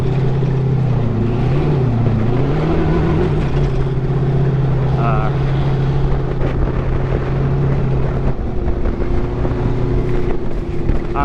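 A lopey V8 sandrail engine drives across the Glamis dunes, droning loud and close with a steady low tone that dips and rises in pitch, with wind buffeting the microphone throughout.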